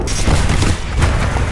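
Grenade blast in Titanfall 2 gameplay, a loud, dense boom with a rumbling low-end tail that fills the whole short stretch, heavy and close without a break.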